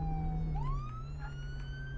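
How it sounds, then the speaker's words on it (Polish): An ambulance siren wails on a road, its tone sliding up and down, fairly faint over a low rumble of traffic. "karetka jedzie na sygnale"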